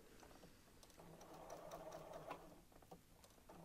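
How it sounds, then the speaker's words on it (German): A sewing machine stitches around the edge of a small fabric pouch with black thread, running in a steady, quiet hum that rises slightly in the middle of the pass. "Ich nähe jetzt einmal entlang der Linie ringsherum."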